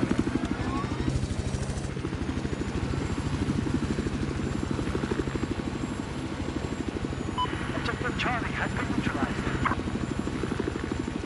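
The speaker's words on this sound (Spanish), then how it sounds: "A ver cómo me va el helicóptero." Helicopter in the Battlefield 4 conquest mode, a steady loud rotor thump with pulsing chop throughout, mixed with game clatter and short bursts of other effects, with someone talking over it.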